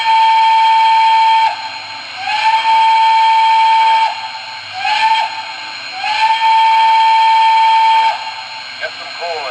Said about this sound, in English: it's a very basic banshee style whistle, and it sounds pretty cool